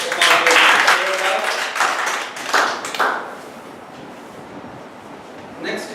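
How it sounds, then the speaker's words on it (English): Applause from an audience at a club meeting, a fairly loud burst of clapping that fades over a few seconds, with faint voices under it and a brief rustle near the end. "let us give us a good round of applause"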